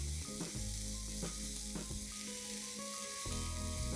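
Momo vegetable filling fries in a hot pan, a steady loud sizzle running throughout with repeated scraping strokes as the vegetables are stirred and mixed.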